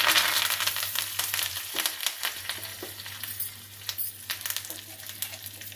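Urad dal, cumin, dried red chilli and curry leaves frying in hot oil for a fenugreek-leaf dal tempering, a steady close sizzle with crackling pops and occasional stirring scrapes, no voices over it.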